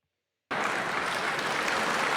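After half a second of silence, a large audience bursts into loud, sustained applause that holds steady to the end.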